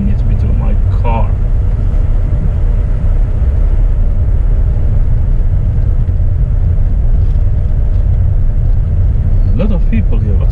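A car driving slowly along a pedestrian walking street in Bruges, its engine and road rumble a heavy, continuous drone heard from inside the vehicle, with someone talking and brief outside voices over it.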